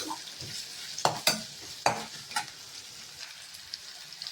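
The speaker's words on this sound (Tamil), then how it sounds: "வெங்காயம், பச்சை மிளகாய் இதெல்லாம் போட்டு நல்லா கலக்கணும்." Onions, green chillies and curry leaves frying in a pan for vegetable rava kichadi, with a soft sizzle under a few sharp scrapes of a spoon stirring, close and fairly quiet, then fading to low background.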